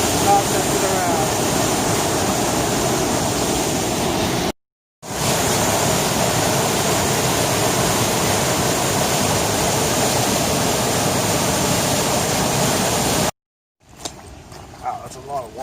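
Loud, steady rushing of a fast-flowing forest creek fills the scene, a dense broadband roar close by, with brief breaks before it returns.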